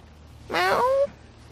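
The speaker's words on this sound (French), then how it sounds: "Regardez-le, un chat." A cat meows once in a forest, a short, clear, tonal cry lasting about half a second that rises and then falls, close by over quiet outdoor background.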